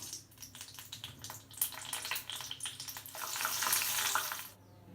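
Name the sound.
green chilli frying lightly in pan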